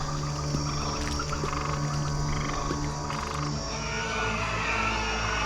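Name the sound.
frogs croaking in the animated series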